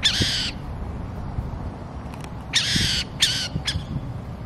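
Owls calling from the grass beside a street in Brazil give several harsh, raspy screeches, one near the start and a cluster of three toward the end, clear and fairly close over quiet outdoor background.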